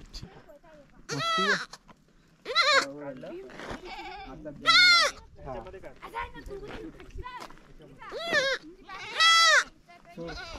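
Village goats bleating up on Tringalwadi fort near Igatpuri: five loud, wavering calls spaced a couple of seconds apart, with quieter rustling in the gaps.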